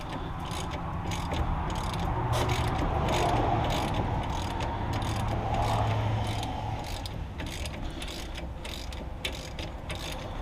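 A ratchet wrench works on large brake bolts of a 2003 Mazda Tribute, giving fast, steady close clicking that runs continuously under a low background hum.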